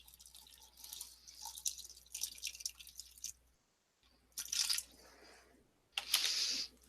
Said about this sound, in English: So let me pour a little bit of water in there.